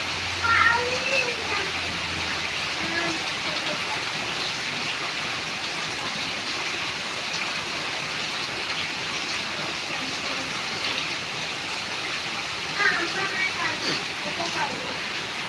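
Heavy rain and flowing floodwater in Karnataka make a steady, dense rushing roar that continues evenly throughout, with faint brief sounds surfacing near the start and end.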